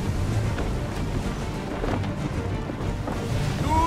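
A blustery gust sweeps over open sea in Assassin's Creed III, a steady, loud roar of wind with low rumbling and water wash filling the whole moment, no voices.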